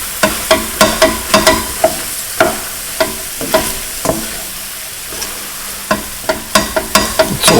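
A spoon stirs flour as a thickening agent into cottage pie filling in a pan over low heat, giving steady, regular scraping strokes over a soft sizzle, close and fairly loud with no talking.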